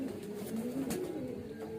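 Baby highflyer pigeons coo softly in a low, wavering murmur, faint and continuous, close by with no talking.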